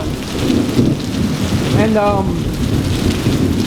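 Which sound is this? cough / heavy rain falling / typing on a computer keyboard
heavy rain falling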